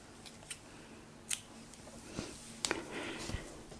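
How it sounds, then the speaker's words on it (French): Scissors snip crochet yarn while finishing an amigurumi squirrel, giving a few short, close, crisp cuts spaced apart over a quiet background. "On coupe un petit peu le fil."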